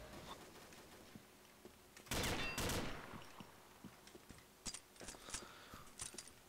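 Bursts of rapid automatic M16A3 rifle fire in Combat Arms, one heavy volley in the middle followed by shorter scattered shots.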